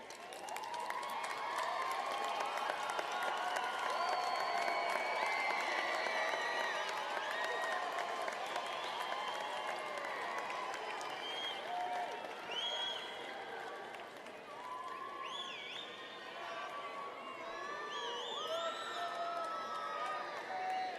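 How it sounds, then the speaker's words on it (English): A high school graduation crowd applauds while voices cheer and call out, a long, steady roar of clapping with shouts and lively chatter mixed in. "share with them your applause for their support these years through school"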